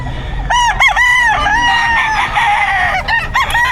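Roosters crow loudly at a busy Bocaue pet market, several overlapping cock-a-doodle-doo calls rising and trailing off over a steady crowd murmur, with chickens clucking close by.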